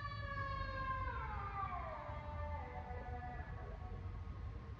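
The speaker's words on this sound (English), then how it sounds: "What kind of ambulance is that?" Ambulance siren in steady, fairly faint wailing tones that slide downward in pitch as if the vehicle is passing, over constant low traffic rumble, with no voices.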